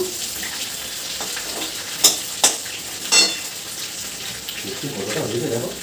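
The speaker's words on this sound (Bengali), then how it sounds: "আলু ভাজা হচ্ছে মাংসের জন্য" Potatoes fry in a pan for a meat curry, giving a low continuous sizzle with a few sharp utensil clicks partway through.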